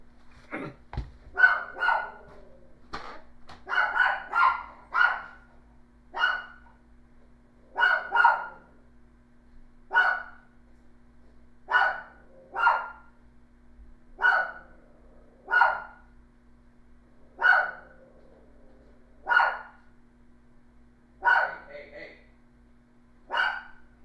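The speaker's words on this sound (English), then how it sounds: "Dog doesn't like delivery men." A dog barks at delivery men in a long series of sharp, evenly spaced barks, some in quick clusters, fairly loud and close, over a faint steady electrical hum.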